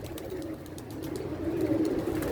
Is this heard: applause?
no